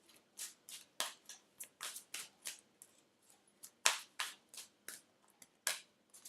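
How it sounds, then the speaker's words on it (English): Oracle cards shuffled by hand, a quiet irregular series of soft papery flicks and riffles, close and without talk. "Let me shuffle first,"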